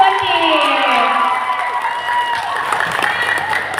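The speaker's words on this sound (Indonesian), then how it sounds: "Mari kita berikan tepuk tangan yang meriah untuk kedua tim." An audience at a final debate round applauds and cheers for both teams, with a crowd of clapping and shouts, some voices rising above the steady applause.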